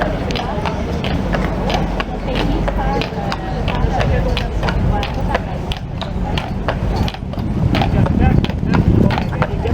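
Hooves of a Montreal carriage horse clip-clop in a steady rhythm close by on pavement, with street noise and crowd chatter around them throughout.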